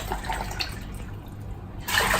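Water runs steadily into a pot of mixed dal lentils, a continuous close splashing pour that swells louder near the end.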